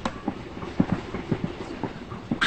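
A passenger train runs at night, heard from inside a sleeper coach as a low rumble with soft rhythmic wheel clacks and bumps, steady and moderately quiet.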